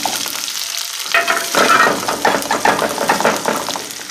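Onions added to hot oil give a loud, continuous sizzle that swells after a brief lull, with occasional stirring clinks, close up and heard with no talking.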